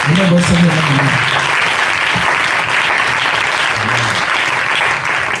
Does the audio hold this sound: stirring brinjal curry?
no